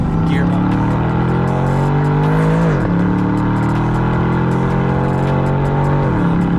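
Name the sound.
Aston Martin DBX engine and exhaust revving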